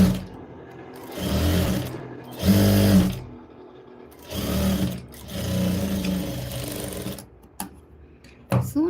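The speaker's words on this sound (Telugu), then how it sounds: "ఇక్కడ మళ్ళీ ఇంకో స్టిచ్ అనేది వేస్తున్నాను" Sewing machine stitching a blouse seam, running in several bursts of steady mechanical whirring separated by short pauses, close and fairly loud with no talking.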